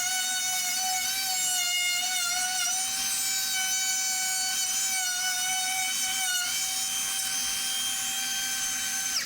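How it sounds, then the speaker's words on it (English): A power router cuts a hinge mortise into a door slab, a steady high-pitched whine with a strong tonal edge running continuously for several seconds at close range, its pitch sagging slightly as the bit bites into the wood. "take the router, and then route the hinge out"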